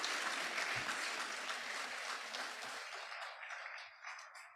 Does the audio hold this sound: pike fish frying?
no